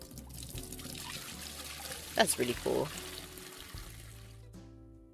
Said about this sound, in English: I got a sink to fill up the water.